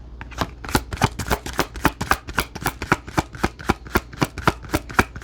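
Tarot deck being shuffled and cards drawn, a fast, even run of crisp riffling slaps about four per second, close and loud with no talk.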